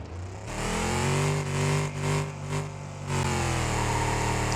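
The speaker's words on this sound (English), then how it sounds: "Second gear burnout's going 50" A car does a second-gear burnout, its engine revving hard and close with rising harmonic pitch, brief dips between pulls, then a sustained high rev with tyre roar.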